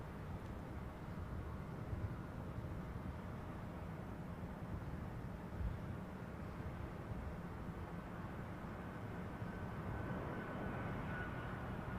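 A Virgin airliner, flight VS-135, climbing away after takeoff, heard as a steady, fairly distant broadband engine roar that holds evenly throughout without people talking.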